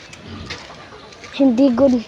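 Soft cooing calls from pigeon-like birds near the end, a few wavering notes over faint background chatter.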